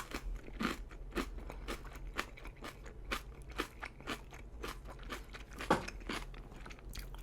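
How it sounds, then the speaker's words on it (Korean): Crunchy kimchi is chewed close to the mic, giving a steady series of crisp crunching bites at a regular rhythm, quiet overall but distinct, with no talking. "혹시 김치 씹는 소리 들려요?"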